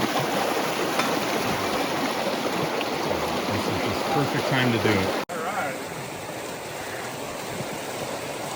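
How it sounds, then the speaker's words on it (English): A stream rushes steadily beneath a trail bridge under repair on Trail 401 at Dry Wolf, a loud continuous broadband wash of rolling water, with someone briefly talking over it. "And you can see the water's just rolling."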